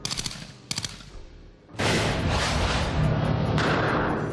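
Shots from a VSS Vintorez suppressed sniper rifle: two sharp, loud bursts close together, then a dense, sustained roar of noise that carries on to the end.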